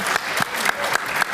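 A convention crowd applauds Spider-Man comic writers at a Terrificon 2022 panel: sustained, fairly close clapping from many hands, with a few sharper accents and faint talk underneath.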